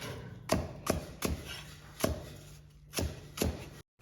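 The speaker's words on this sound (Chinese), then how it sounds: "2根洗净的大葱切去叶部，再切成像这样的滚刀块" A knife chops washed scallions (Chinese leeks) into roll-cut chunks on a board for sautéed mutton, seven crisp close thuds at a steady, unhurried rhythm, no talking.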